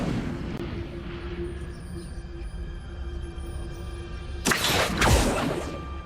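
Incendio fire spell cast in Hogwarts Legacy, a sudden loud burst of roaring flame erupting late over a low ambient game hum.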